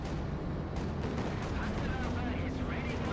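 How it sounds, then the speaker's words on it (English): An artillery barrage in Company of Heroes 2 rumbles as continuous distant-sounding booms and gunfire under a voice talking over the action. "Calling in a coordinated barrage here in the Guardsmen."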